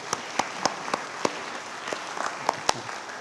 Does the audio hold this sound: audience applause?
yes